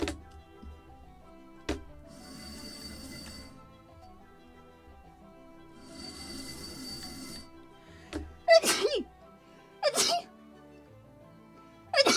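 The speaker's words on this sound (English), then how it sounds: "next time will be 4 times of sneezing" A person sneezes three times in close succession near the end, each sharp and loud, after a quiet stretch with light workshop ticks and faint background hiss.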